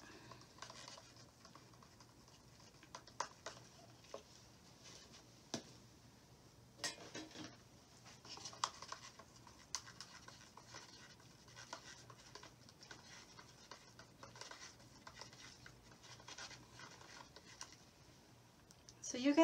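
Faint clinks and scraping taps of a stick stirring thin fluid acrylic paint in a cup, scattered and irregular against a quiet background.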